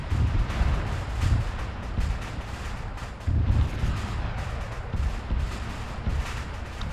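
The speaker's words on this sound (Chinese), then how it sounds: "我好像听到你们枪声了。" Gunfire and heavy weapons fire in the military video game Arma 3 during an armed assault: repeated booming bursts and rumbling shots over a constant roar, with no clear talk.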